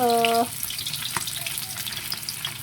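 Shrimp rolls wrapped in lumpia wrappers go into hot oil, raising a dense, continuous close sizzle with small pops after a brief tonal sound at the start.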